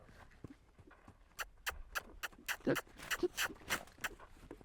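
A horse loping around a round pen, its hoofbeats thudding in a steady, rolling rhythm that grows clearer and more regular partway through, with faint background sounds.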